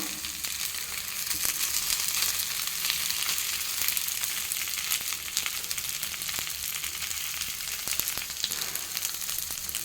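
Slices of pathrode fry in hot oil, giving a steady, dense crackling sizzle with scattered sharper pops throughout, close and continuous with no talking.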